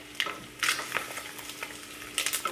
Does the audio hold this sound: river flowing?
no